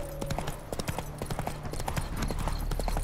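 Hooves of Roach, a horse in The Witcher 3: Wild Hunt, clip-clop in a quick, steady galloping rhythm over the whole stretch, close and fairly loud against a low game background.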